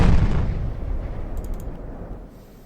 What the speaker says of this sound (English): The 5-inch guns are now joining in on shooting the destroyer.